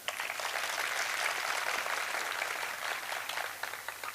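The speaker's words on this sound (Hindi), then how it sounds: "एक बार ताली बजा दो।" Audience at a Hindi mushaira poetry gathering in Sanawad applauds, a dense continuous clapping that stays loud and even for several seconds with no talk over it.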